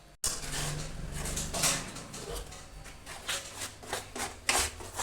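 A peanut sweet mixture (mandvi pak) being stirred quickly in a pan gives steady scraping and rubbing strokes, close and fairly loud, in a rhythmic rasp.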